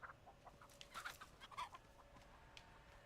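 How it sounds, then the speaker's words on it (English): Chickens clucking in The Texas Chain Saw Massacre video game, a few short scattered clucks and squawks, fairly faint and close, over quiet background ambience with no talk. "Chickens."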